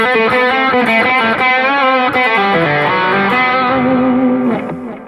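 A Boss GX-10 plays a guitar lead tone with overdrive and space echo, giving sustained distorted notes with echoing repeats that ring out for several seconds and fade at the end.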